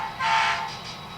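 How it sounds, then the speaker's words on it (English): A short air horn blast from a SoundTraxx ECO-200 sound decoder in an Athearn SD45 model locomotive sounds once, loud and near, and then tails off into a fading tone. "we'll blow the whistle, the air horn, and you can hear the change"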